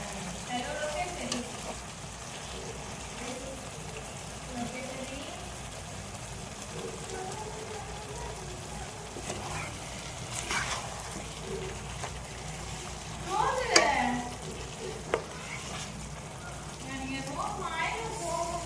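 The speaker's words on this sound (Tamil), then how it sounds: "இதை அடிக்கடி கிளறி விட்டுட்டே இருங்க" Chicken gravy sizzling and bubbling in a pan, a continuous low frying hiss with occasional spoon scrapes and stirs, fairly quiet, with a voice speaking faintly underneath at times.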